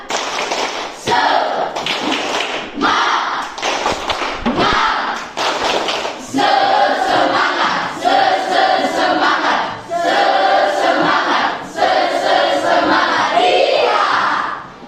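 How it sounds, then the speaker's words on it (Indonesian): A school class performs a rhythmic spirit clap cheer, the students clapping sharp patterned bursts loud and close, with chanted voices joining in through the latter half. "Tepuk semangat."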